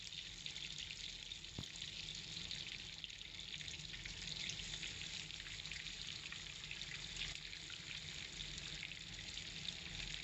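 Fish fillets frying in plenty of hot oil in a kadai, a steady faint hiss and crackle running evenly throughout with an occasional small pop.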